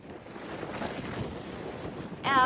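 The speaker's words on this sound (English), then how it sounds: "I hope you can hear me because it's very windy." Strong wind gusting across the microphone in Old San Juan, Puerto Rico, a steady broadband roar that swells slightly near the end with a brief tonal sound over it, no talk.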